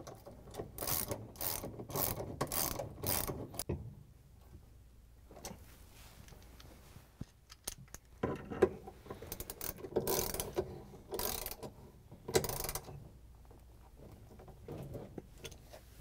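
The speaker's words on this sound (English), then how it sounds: "Then we can use the half inch socket with the ratchet and the extension to tighten it down." A half-inch socket ratchet with an extension tightens a bolt on a GE washing machine transmission assembly. Close, sharp bursts of rapid clicking come in several runs, with quieter handling noise between them and no talking.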